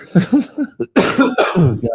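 Several harsh coughs come in quick bursts close to the listener, with short gaps between them.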